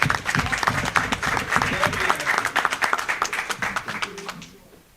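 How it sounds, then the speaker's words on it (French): An audience claps loudly for Abdoulaye Bari at an evening event in Conakry. The applause is a dense, steady patter with faint voices mixed in, and it fades away toward the end. "Applaudissez très fort pour mon doyen, pour mon frère, bien-aimé, Monsieur Abdoulaye Bari."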